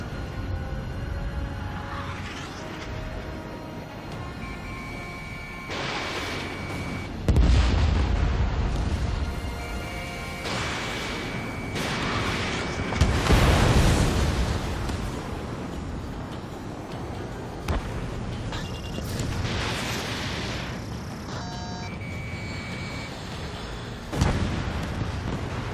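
Repeated explosions as targets are hit in Ace Combat 7, with several booming blasts spread over a steady jet-engine roar, plus beeping cockpit tones and alert sounds.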